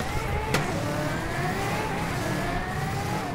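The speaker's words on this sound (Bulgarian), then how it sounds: "Чуйте звука на двигателя." A supercar engine in a GTA video game revs steadily, its pitch climbing slowly and smoothly with a loud, even drone.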